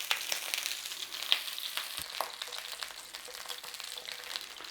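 Sausages browning in a frying pan for a traditional Romany stew give off a steady close sizzle with scattered pops and crackles and the odd scrape of a utensil, with no talk.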